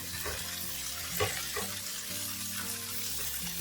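Cabbage sizzles and crackles steadily in hot olive oil in a pan, with a few soft stirring scrapes and no talking.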